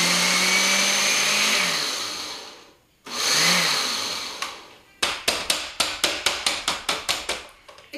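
A mini food processor whirs loudly in two continuous bursts as it blends stuffed mushroom filling, followed by a rapid series of about ten short pulses, close and alone.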